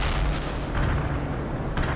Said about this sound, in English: Artillery barrage turns the target area.